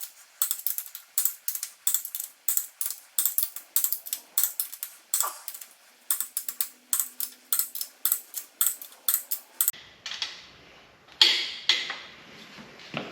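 A torque wrench tightens the crankshaft main bolts on a 406 small-block Chevy engine, making rapid ratcheting clicks in short repeated bursts, close up with no talking.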